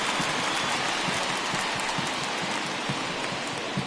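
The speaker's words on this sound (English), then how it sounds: "I don't know how much more rain this field can take" Rain pouring onto a baseball field in a video game, a dense, steady hiss of drops with a faint rhythmic knocking underneath, constant and fairly loud with no talk.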